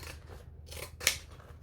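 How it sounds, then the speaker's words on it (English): Zigzag pinking scissors cutting through thick fabric for a clutch bag, a few crisp snipping crunches with one sharp, louder cut near the end, close up and with no voices. "Zigzag scissors for the win."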